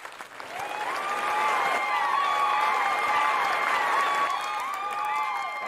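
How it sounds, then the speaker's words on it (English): Audience gives a warm round of applause to bring a guest onstage, steady dense clapping throughout with tonal background sounds layered underneath. "can I have a warm round of applause to bring Andrew Lin up?"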